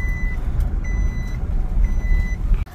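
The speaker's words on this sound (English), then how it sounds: "Truck is here." A truck arriving at a sheep farm to load lambs, its reversing alarm beeping in three steady spaced bursts over a loud, continuous low engine rumble, close by and with no talk.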